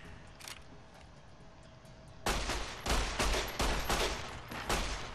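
Gunfire in Fallout New Vegas, a quiet stretch broken by a burst of loud, closely spaced shots that keep cracking in rapid clusters through the second half.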